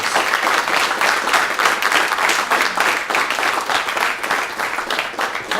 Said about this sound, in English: I think we just owe them a round of applause to thank them for their service.